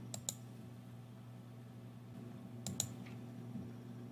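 A computer mouse gives two quick pairs of faint, crisp clicks spaced a few seconds apart over a quiet background hum.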